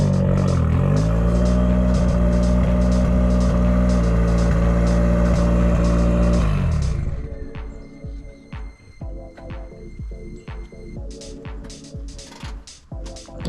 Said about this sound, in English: just to get the car like running so we can put it on the trailer